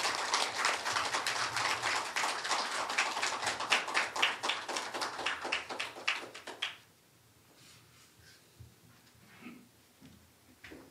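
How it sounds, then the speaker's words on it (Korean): Audience applause welcoming a speaker to the stage at a Korean history lecture, brisk dense clapping for about seven seconds that stops abruptly, followed by quiet room noise. "큰 박수로서 단상으로 모시겠습니다"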